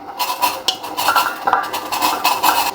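A spoon clinks and scrapes against a small silver bowl while ghee is being mixed in, giving light metallic taps and scraping strokes that run steadily and close for a few seconds, with no talking.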